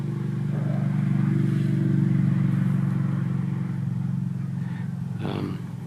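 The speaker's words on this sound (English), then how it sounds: "motorbike." A motorbike passing close by outdoors, a steady engine drone that swells and then slowly fades, with no talking.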